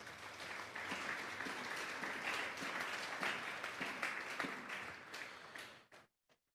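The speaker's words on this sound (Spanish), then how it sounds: "Vamos a darle un fuerte aplauso pues al Señor esta noche." A church congregation gives a strong round of applause for the Lord during an evening service, steady massed clapping that holds and then fades out quickly, ending with a few last claps.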